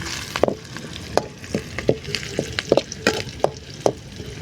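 Spices such as cinnamon and dried chillies being stirred in a hot frying pan for a village-style pepper chicken gravy: close, irregular scraping and clinking strokes of the spoon over a soft sizzle, with no voices.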